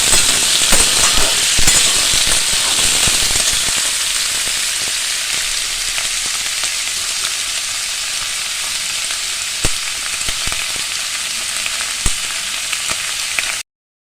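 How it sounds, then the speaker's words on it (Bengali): Raw pumpkin pieces fry in oil with browned onions, crackling and popping loudly at first, then settling into a steady, close sizzle with a few sharp spits. "কুমড়োগুলো একটু ভেজে নেবো।"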